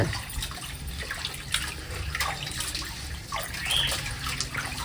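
Running water splashes and trickles steadily as fish are rinsed and washed by hand for a Tamil mixed-fish curry, a close, continuous wash with no talking.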